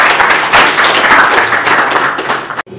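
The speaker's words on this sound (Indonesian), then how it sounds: "Bagus sekali. Tepuk tangan dulu," A class of secondary-school students in a Reog Ponorogo lesson claps hands together, a dense, loud burst of applause filling the room that stops abruptly near the end.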